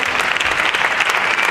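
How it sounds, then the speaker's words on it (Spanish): Dense, steady applause from an audience at a telepathy magic show, filling the room at full volume without a break. "Un aplauso para nuestro amigo."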